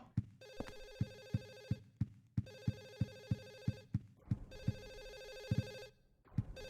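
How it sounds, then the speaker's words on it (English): Telephone ringing inside an apartment in the horror game Silent Hill 4: The Room, three trilled electronic rings repeating over a steady train of dull thumping footsteps, fairly close and uninterrupted by talk. "There's a phone ringing somewhere."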